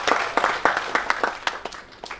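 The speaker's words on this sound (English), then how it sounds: "Definitely a big round of applause to him" Audience applause at an annual day event, fairly close individual claps in an uneven rhythm from a modest crowd, tapering off toward the end.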